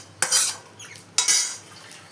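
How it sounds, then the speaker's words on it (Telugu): Hot tempering with curry leaves and coriander tipped into a chutney for dibba rotte, making two sharp metallic clatters of a spoon against a steel vessel, each trailing into softer scraping, with no voices. "ఇప్పుడు ఈ పోపుని ఈ పచ్చట్లోకి వేసేసుకోవాలి"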